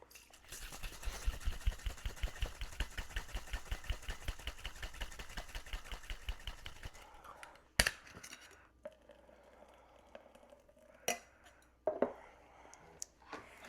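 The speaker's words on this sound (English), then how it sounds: "first we're going to do that dry shake or mime shake to emulsify the egg and get that nice foamy texture" A cocktail shaker dry-shaken with egg for a blueberry clover club, giving a fast, steady rattling rhythm for about seven seconds, close and fairly loud, followed by quieter handling knocks and clinks.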